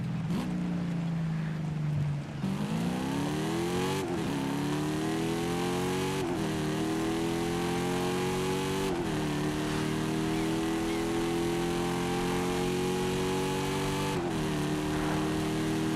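A car in Forza Horizon 5 accelerates hard, its engine note climbing steadily through three gear changes with brief dips at each shift, loud and continuous throughout.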